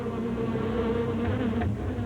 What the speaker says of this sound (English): Soon the bees were swarming everywhere.